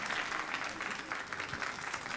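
Steady applause from a telethon audience, fairly distant and even, continuing throughout without voices standing out.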